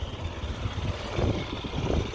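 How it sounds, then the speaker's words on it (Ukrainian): A Yamaha Gear fuel-injected cargo scooter engine idles with a steady low rumble and faint rattle, running alone without voices. "Двигун працює ідеально."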